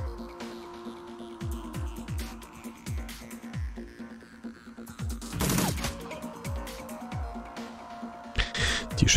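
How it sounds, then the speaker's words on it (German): Rapid bursts of gunfire in the video game Shadowrun Returns crack repeatedly over a steady background hum, with thumping impacts and a louder burst of noise midway. "Schüsse gingen jetzt daneben."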